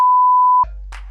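A steady, pure censor bleep tone sounds loudly for just over half a second, then cuts off to a low hum and a brief faint noise.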